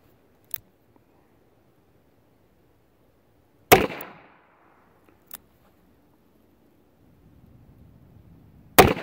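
An old used S&W Kit Gun .22LR revolver fires Aquila ammunition outdoors, with four sharp, isolated cracks spaced several seconds apart, one louder shot trailing a brief echo.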